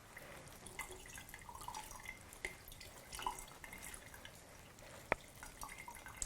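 Liquid squeezed by hand from herbs wrapped in tight-weave cotton gauze, with soft irregular drips and trickles falling into water, faint and close, with a sharp click midway.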